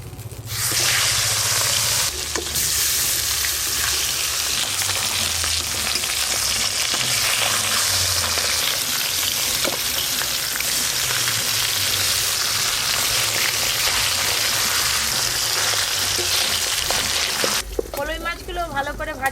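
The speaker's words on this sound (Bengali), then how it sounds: "ওই একই তেলে ফলই মাছগুলো বেশ ভালো করে ভেজে নেব।" Falui fish fry in oil in a pan on a village clay stove, with a loud, continuous sizzle that runs almost unbroken from start to finish.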